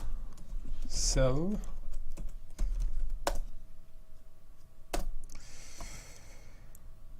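Computer keyboard typing as Visual Basic code is entered in Excel: quiet, scattered keystrokes and a few sharper clicks under a man's speech.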